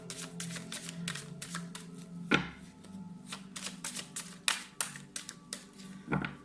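Tarot cards are shuffled by hand for a reading, giving a run of quick crisp riffling and tapping bursts with a few sharper knocks, close and steady throughout.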